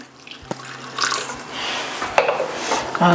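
Water splashes and trickles into a metal wok in a short pour, with a few light clinks from the cookware.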